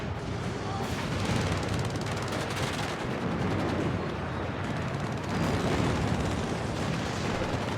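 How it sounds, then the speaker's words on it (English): Milan anti-tank rockets fire in the WARNO strategy game amid a steady wash of battlefield artillery and gunfire, loud and continuous with dense crackling bursts throughout. "Milan firing rockets into"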